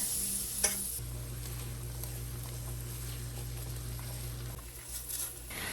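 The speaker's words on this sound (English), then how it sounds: "saute them in a large skillet with butter" Steady sizzling and crackling of onions sautéing in butter in a large skillet, continuous and close, with a brief clink near the start.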